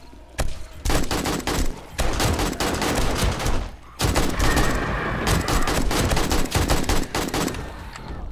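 An AK rifle fires in the survival video game 7 Days to Die, Darkness Falls mod for Alpha 20: loud, close bursts of automatic gunfire with short pauses between volleys, rapid shots overlapping into dense crackling rattles.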